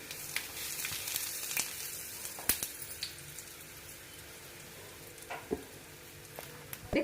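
Fenugreek, mustard seeds and asafoetida sizzling in hot oil for an Indian amla pickle tempering, a steady close frying hiss with scattered sharp pops and crackles.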